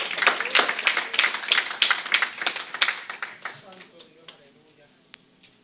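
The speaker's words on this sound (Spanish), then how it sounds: "Un aplauso con sin miedo." A church congregation claps during a sermon, a loud run of sharp, fairly rhythmic hand claps that gradually thins out and fades into scattered taps and quiet murmuring.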